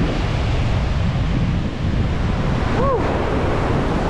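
Ocean surf rolls in steadily on a beach at Amelia Island, Florida, with strong wind buffeting the microphone into a loud, constant roar; a single brief shout cuts in near the end.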